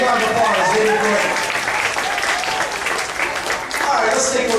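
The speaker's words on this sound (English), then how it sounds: "Let's give them a big round of applause." A big round of audience applause for performers after a special effects water tank demonstration, dense clapping from a crowd with voices and cheering mixed in throughout.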